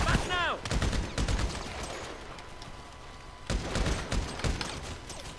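Bursts of rapid gunfire ring out in the video game Grand Theft Auto Online at a military base. Two loud volleys of sharp shots are separated by a quieter stretch, with voices talking faintly underneath.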